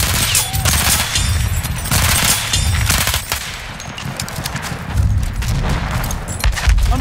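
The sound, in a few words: machine gun fire in Battlefield 1 video game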